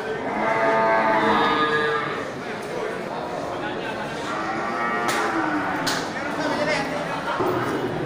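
Cattle moo loudly at a busy livestock market, with a long low call near the start and more lowing behind steady crowd chatter and people talking.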